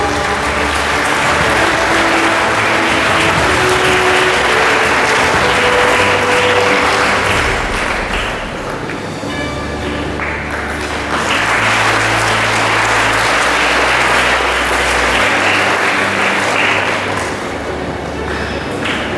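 At a school toppers' felicitation ceremony, an audience claps in sustained applause, loud and dense, dipping briefly midway before swelling again, with occasional thumps and a voice over a speaker system.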